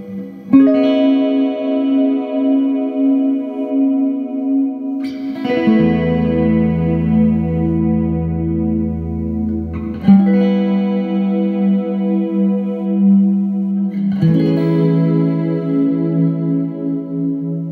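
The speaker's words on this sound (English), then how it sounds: "this is what it sounds like with the reverb on though" Sustained electric guitar chords ring out one after another through a Boss RV-6 reverb pedal, each washed in lush reverb that lets the notes bloom and linger.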